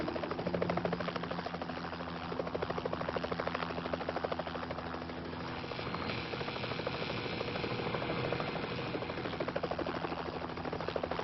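Steady, droning helicopter rotor and engine noise with a constant buzzing hum, continuous and fairly close throughout, no talking; the helicopter hovers beside a high-voltage power line.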